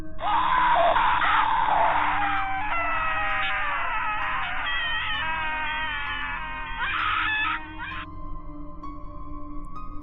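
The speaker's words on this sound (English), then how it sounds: "It was some kind of distorted screaming sound." A phone alarm at 1 a.m. plays a distorted screaming sound instead of its usual marimba tone: loud, wavering wails and shrieks that run for several seconds before thinning out.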